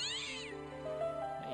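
A cat in Broken Sword: Shadow of the Templars gives a single short meow, clear and close, with a rising and falling tone over a quiet game background.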